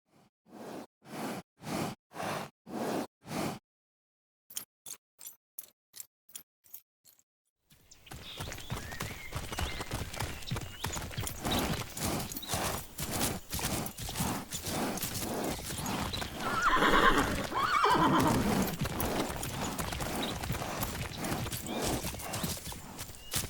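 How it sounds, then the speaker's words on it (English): Rhythmic video game horse hoofbeats clip-clop at a steady pace, then a galloping rush of hooves with a horse whinnying midway, crisp and close. "all the horse's sounds are triggered through anim notifiers"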